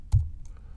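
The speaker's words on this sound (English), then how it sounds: "That is some loud typing." A single loud keystroke clacks on a computer keyboard, close and sharp, then quiet room tone follows.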